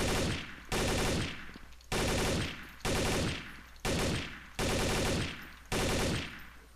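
Rifle fire in a shooter game, rapid full-auto bursts repeating about every second, loud and close, with sharp attacks and short decaying tails, no talk over it.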